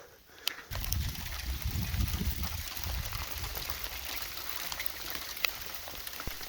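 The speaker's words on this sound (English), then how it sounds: "Hope that hail doesn't get any bigger." Hail falls outdoors on a hike toward an abandoned gold mine, a dense scattered patter of small ticks and taps with a low rumbling wash underneath, steady and fairly faint throughout.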